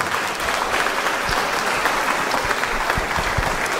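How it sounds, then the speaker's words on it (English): Full audience applause for students at a school spring band and orchestra concert, even and continuous, with a few sharper claps standing out near the end. "Another round of applause for all these students."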